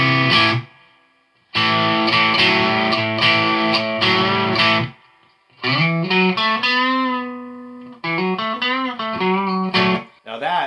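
An electric guitar runs through a Behringer OD300 distortion pedal on its distortion side with the gain all the way off, giving a lightly driven tone. Several loud strummed chords and single-note phrases ring out, separated by short gaps, with no talk.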